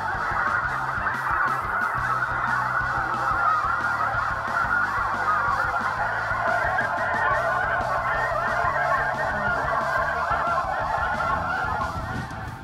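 A large flock of snow geese honks continuously, a dense, loud chorus of overlapping calls filling the whole stretch with no talk.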